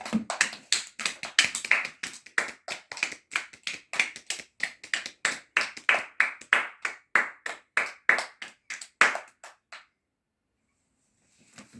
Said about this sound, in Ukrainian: Тато аплодуй!